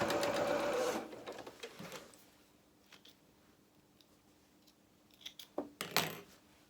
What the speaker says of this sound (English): And I'm just going to run some stitches just with 1/8 of an inch from the edge just to tack all of this down.